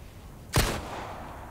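A single sharp gunshot from the Resident Evil video game cracks once, loud and close, then fades into a short low tail over quiet background.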